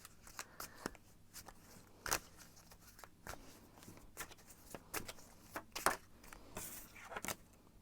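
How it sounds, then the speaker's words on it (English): Tarot cards being shuffled by hand, a quiet series of crisp riffles, slaps and flicks arriving in irregular bursts close to the microphone, with no talking. "I'm gonna shuffle and see what the cards have to say about how this person feels about you."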